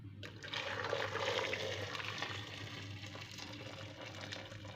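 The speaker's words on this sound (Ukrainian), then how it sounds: "Заливаю зараз кипяченою водичкою." Boiled water pours steadily into a multicooker over carp head and meat, a continuous splashing rush with a low hum underneath, fairly close and even throughout.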